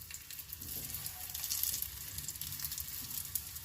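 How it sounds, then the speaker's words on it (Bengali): Beetroot cutlets shallow-fry in a small amount of oil over low heat, making a soft, even, continuous sizzle with faint crackles, heard fairly quietly. "এটা সেলো ফ্রাই করব, সেই জন্য তেলটা কম দেব"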